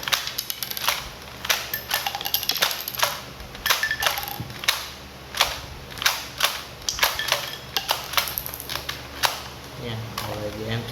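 A spring-type airsoft rifle that ejects shells is cycled by hand, feeding in and ejecting shells with a series of sharp, close mechanical clacks and snaps spaced unevenly, roughly every half second to a second.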